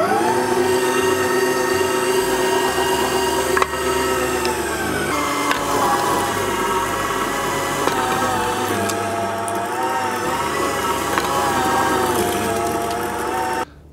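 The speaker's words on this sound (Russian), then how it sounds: "Измельчим кусочки мяса на крупной решетке мясорубки." A meat grinder forces chunks of meat through a coarse plate while preparing lazy plov in a kazan, a steady loud motor drone with grinding texture running continuously, alone without talk.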